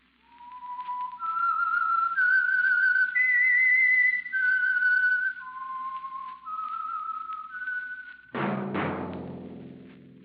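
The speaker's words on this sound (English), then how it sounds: "That whistle is your signal for the Signal Oil Program" A lone whistled melody, the theme of a 1945 radio drama, with clear, sustained notes stepping up and down, followed by a sudden burst of orchestral music.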